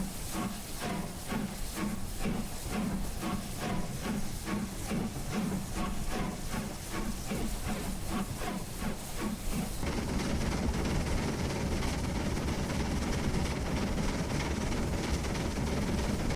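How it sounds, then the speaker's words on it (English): Simulated LNER A4 steam locomotive with a single chimney in Train Simulator Classic, giving steady rhythmic chuffs for about ten seconds over constant hiss, then a continuous roaring steam rush. "here is what a single chimney sounds like"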